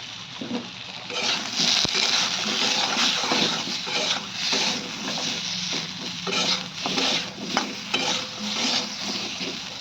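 Spices frying with salt and turmeric in a pan, giving a steady close sizzle broken by stirring scrapes and clinks across the whole stretch.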